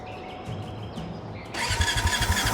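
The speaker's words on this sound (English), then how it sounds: "Let's give that engine a spin." Engine turning over and catching in the Brassheart video game, quieter mechanical clatter at first, then a sudden surge into a loud, rhythmic chugging idle with repeated low thumps.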